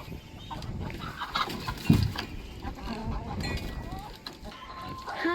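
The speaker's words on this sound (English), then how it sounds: "I just fed the chickens, and there's a lot of chicken chaos." Chickens cluck and squawk in a busy, overlapping chorus close by, with some scuffling and a voice speaking briefly amid the commotion.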